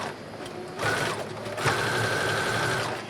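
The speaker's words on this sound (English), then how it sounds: "I'm going to go back and I'm going to zigzag stitch right along that raw edge" A sewing machine runs a zigzag stitch along the raw edge of a dress's fabric, its needle drive humming steadily close up, rising in speed partway through and holding a fast, even whir to the end, alone.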